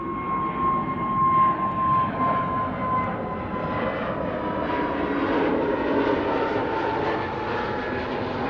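An Emirates airliner taxiing at Amsterdam Schiphol Airport on a sunny winter day gives off a steady, loud, broadband jet engine roar with a faint high whine. The sound is continuous and even, with no talk.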